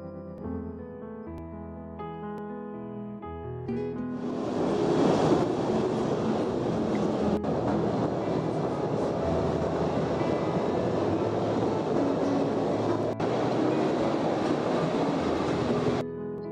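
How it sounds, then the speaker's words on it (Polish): An electric single-track tourist train rumbles through Postojna Cave, a steady, dense roar of wheels on rails building after about four seconds and continuing loudly with a couple of sharp clanks; music plays faintly before it. "Pierwszy, 4-kilometrowy odcinek pokonuje się kolejką elektryczną."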